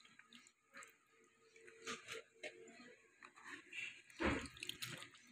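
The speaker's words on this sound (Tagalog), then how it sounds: "maghugas tayo ng gulay natin" Saluyot leaves being washed by hand in water for laswa, with close splashing and trickling, soft dripping, and a louder slosh near the end.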